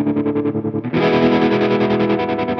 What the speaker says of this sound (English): let's see what it sounds like if I add some overdrive from the SteelSinger drive from Nux